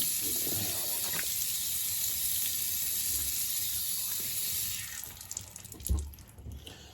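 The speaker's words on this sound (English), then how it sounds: "Just gonna rinse off the sponge here." Steady running tap water pours for several seconds while a sponge is rinsed at a sink during a straight razor shave, and the flow breaks into splashes and splutters near the end.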